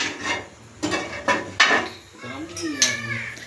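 Dishes and cutlery clink and scrape while a thali plate is served at home, several close metallic knocks and rubbing scrapes, with a voice briefly sounding near the end.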